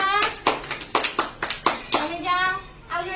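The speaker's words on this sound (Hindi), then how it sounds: "वेरी गुड ताली मारो" Young children in an early-childhood classroom activity clap their hands: several sharp, separate claps in an uneven rhythm, close by, mixed with children's voices.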